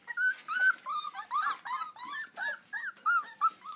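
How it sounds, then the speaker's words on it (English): Newborn puppies, a fresh litter, make a run of high, squeaky whimpers and little growling grunts, close and repeated in quick uneven bursts with no voices over them. "Good puppy, good puppy."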